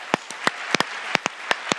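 Sparse, separate claps from a conference audience honoring both competing teams, about nine sharp hand claps spaced irregularly across a couple of seconds, fairly close and clear with no voices.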